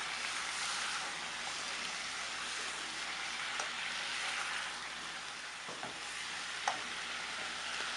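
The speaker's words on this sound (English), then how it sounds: "I'm just gonna fold the saltfish in or mix it into the" Saltfish stirred into vegetables in a pot, a steady sizzling hiss throughout with a couple of soft spoon knocks against the pot.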